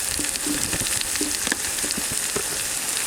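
Tomatoes frying in oil with spices for egg fried rice, a steady close sizzle with light scraping stirs throughout and no voices.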